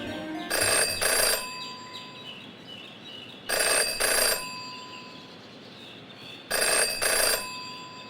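A telephone in the video game Jenny LeClue rings in three separate bursts, each a pair of bright electronic trills, evenly spaced and close, with quiet gaps between.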